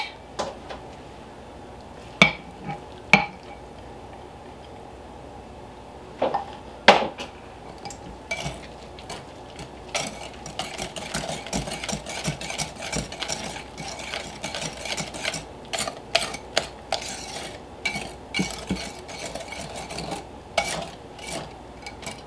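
Soaked oats being stirred into oatmeal cake batter in a bowl, with irregular spoon scrapes and sharp clinks against the bowl repeating close up over a soft background, no speech.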